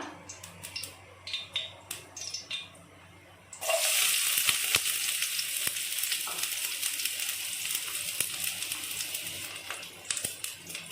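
Onion dropped into hot oil in a home kitchen bursts into a loud, steady sizzle and crackle that carries on for several seconds after a quieter start with some clinks.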